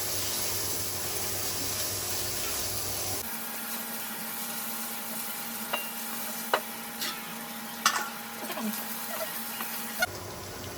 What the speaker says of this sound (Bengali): আদা পেস্ট দেওয়ার পর আর একটু নাড়ানাড়ি করে নিব যেন নিচে পুড়ে না যায়